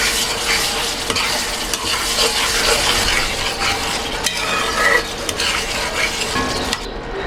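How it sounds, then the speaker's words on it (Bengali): Cumin powder masala for a liver curry sautéing in a pan, a loud continuous sizzle and crackle with frequent scraping and knocking of a spatula as it is stirred. "জিরার গুঁড়া মশলাটা আমি ভালো মতো কষাবো"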